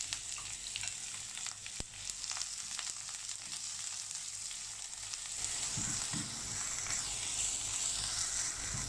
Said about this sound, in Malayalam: ഇനി നമുക്ക് ഇഞ്ചി, വെളുത്തുള്ളി, പച്ചമുളക് ചേർത്ത് കൊടുക്കാം. എന്നിട്ടൊന്ന് വഴറ്റിയെടുക്കാം.